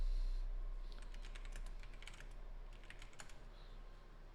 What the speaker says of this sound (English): I'll answer typing.